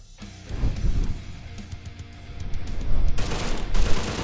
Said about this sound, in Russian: МГ-30 – пулемет, который очень метит на территорию автоматов.